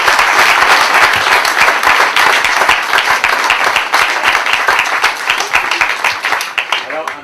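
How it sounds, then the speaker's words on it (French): An audience at a local sports festival in Auray breaks into sustained, loud applause, with dense clapping and some crowd noise continuing steadily for several seconds before tapering off at the end. "je vous propose qu'on applaudisse"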